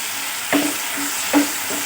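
Fish curry masala fries in a pan with a loud, steady sizzle, punctuated by two soft stirring scrapes, close and continuous with no speech.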